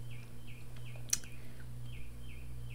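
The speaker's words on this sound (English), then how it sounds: "I don't know if y'all can hear those birds outside, but they are so active." Birds chirp outdoors in short, faint, evenly repeated calls about twice a second, sitting low behind a steady hum, with one brief sharp click in the middle.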